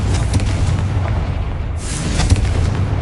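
A Confringo spell explodes in Hogwarts Legacy on PS5, producing a loud, deep, rumbling boom that holds steadily for a few seconds with a fresh burst partway through.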